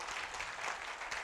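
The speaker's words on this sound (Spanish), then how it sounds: "Den un fuerte aplauso al Señor en esta tarde." Brief burst of congregational applause at an evening church service, a soft, continuous patter of many hands clapping, fairly distant and quiet.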